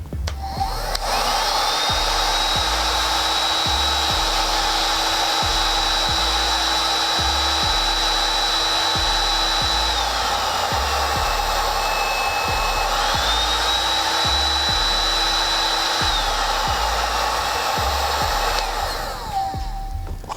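A loud, steady blowing roar with a high whine running continuously from a 2000 W heat gun on its high setting, with a brief dip in pitch midway.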